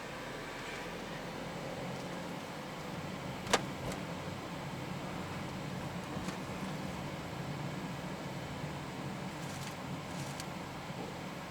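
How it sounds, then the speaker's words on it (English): Steady low road rumble and tyre noise inside a 2019 Perodua Axia G with four-speed automatic, driving under 30 km/h, constant and moderate with a brief click partway through, no talking. "I'm going less than 30 km/h and the road noise is already very apparent"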